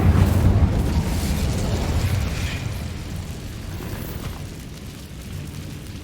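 An Incendio fire spell in the Hogwarts Legacy video game erupts in a loud, roaring burst of flame that rumbles and slowly fades over several seconds, with no talking.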